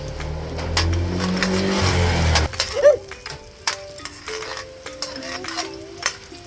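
Ginger and onion sauté in a pan for tinola. A rumbling mechanical noise fills the first part, then it cuts out and leaves a spoon clicking and scraping in short irregular strokes.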